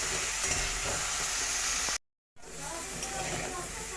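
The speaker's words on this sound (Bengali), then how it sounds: "ফুলকপিগুলোকে একটু ভেজে নেব" Cauliflower frying with turmeric in a pan: a dense, steady sizzle and hiss, close and loud, broken by a brief silent gap before the sizzling resumes.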